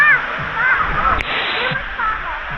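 Water splashes and rushes at the foot of Dampalit Falls, a close, continuous wash with sudden splatters, while people talk and exclaim over the noise.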